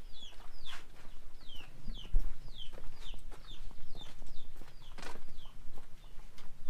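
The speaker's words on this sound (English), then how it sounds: "now I will check the chicken farm here" Chickens on a poultry farm cluck and call continuously, with many overlapping birds at moderate distance over a low steady background rumble and no talking.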